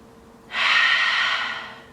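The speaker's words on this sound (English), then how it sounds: "Inhale, deep into your belly." A single long, deep inhale during a yoga flow, a steady breathy rush that swells quickly, holds for over a second, then tapers off, close and clear with no talking over it.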